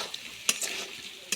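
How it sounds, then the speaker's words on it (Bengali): Mango dal with spices stir-fried in a pan, a steady sizzle with a few scraping stirs and clinks of the spoon against the pot. "আমটার সাথে মশলা দিলাম, সব কষে নিচ্ছি।"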